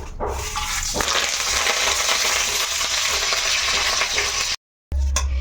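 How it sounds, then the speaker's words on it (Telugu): Cumin, mustard seeds, dried red chillies and curry leaves hit hot ghee for a vegetable khichdi tempering, giving a loud, dense, continuous sizzle and crackle up close, cut by a brief gap near the end. "ఇక అందులోకి 1 స్పూన్ జీలకర్ర, ఆవాలు, ఎండుమిర్చి, కలిమాకు, అంతే ఇవే."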